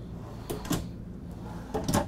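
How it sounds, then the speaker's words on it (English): Soft-close pantry drawers in a 2022 Renegade Verona 40VBH motorhome, two pairs of quiet wooden thumps and clicks about a second apart, close by with no talking. "Even your pantry drawers are all soft close, if you notice."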